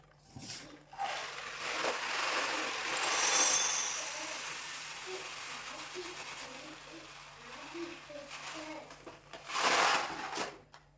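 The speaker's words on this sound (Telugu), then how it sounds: "అలాగే ఇప్పుడైతే పెసలు యాడ్ చేసుకుందాం" Dry moong dal lentils pour into a bowl of rice, a grainy rattling patter that swells and fades twice, with a faint steady hum underneath.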